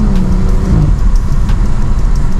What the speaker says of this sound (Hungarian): Kicsit megpöcögteted a gázt.